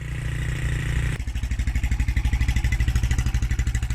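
Suzuki GN125 motorcycle engine running with the choke on. A steady high drone shifts into a fast, even, pulsing idle that stays loud and close throughout.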